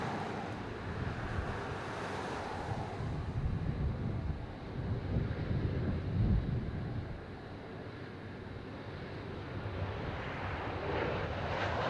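Qantas airliner on approach and landing on runway 25 at Sydney Airport, a steady broad roar of jet engines with wind rushing across the microphone, swelling slightly midway and holding loud throughout with no talk.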